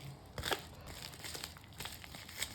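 Soft, close crinkling of a plastic packet being handled, with irregular crackles and rustles throughout.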